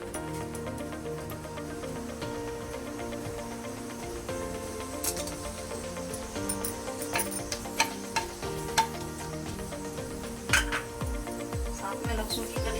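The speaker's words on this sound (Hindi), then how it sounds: "तेल गर्म हो गया है, इसमें हम खड़े मसाले डाल देंगे।" Whole spices frying in two spoons of hot oil in a pan, paneer lababdar being cooked: a continuous soft sizzle with a spoon stirring and scraping the pan, plus occasional clinks of metal.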